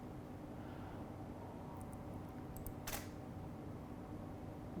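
One shutter firing on a single-lens reflex camera set to f/2.8 at 1/200th while shooting festive bokeh, a crisp brief click heard alone against a steady low background hum, preceded by faint small ticks.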